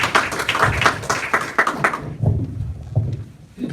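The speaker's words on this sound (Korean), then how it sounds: "큰 박수 부탁드립니다" An audience at a talk claps in loud, uneven bursts for a couple of seconds, then the clapping thins into a few scattered, close hand claps before fading.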